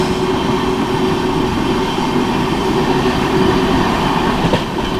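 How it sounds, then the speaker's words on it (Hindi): The Islampur–New Delhi Magadh Express passes close by, a loud steady rumble of wheels on rails with a rhythmic clatter and a brief metallic squeal near the end. "और ये जा रही है सामने से इस्लामपुर नई दिल्ली मगध एक्सप्रेस"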